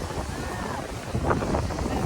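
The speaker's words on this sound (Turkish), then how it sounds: "Bayağı bir rüzgar var bugün" Steady wind buffets the microphone with a rough, rumbling roar at a seaside beach, while voices talk faintly underneath.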